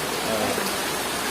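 Steady rain pours down in a durian orchard at Cenggiring, a dense, even hiss with no break.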